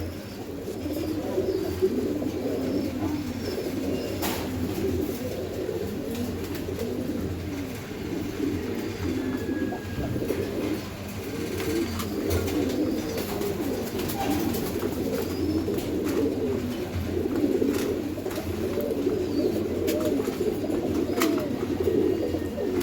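Steady low cooing from several pigeons nearby at a pigeon farm, overlapping rhythmic calls rising and falling without pause, with light rustling in the background.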